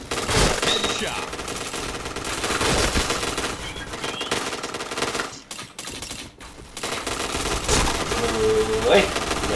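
Rapid gunfire from the online shooter Point Blank, loud and dense bursts of automatic fire running almost continuously through the clip, with a short lull in the middle and voices talking over the action.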